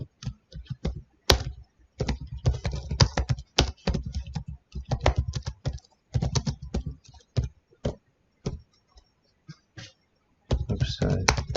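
Computer keyboard keys clatter in quick irregular bursts while someone types website code, close and crisp, with short pauses between runs of keystrokes.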